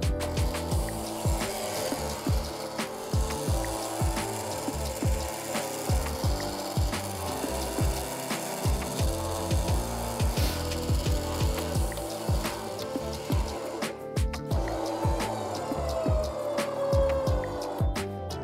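A Warn winch ratchets steadily, its pawl clicking in a fast, regular train of sharp mechanical ticks close to the mic for the full stretch, with gear whir underneath and no talk.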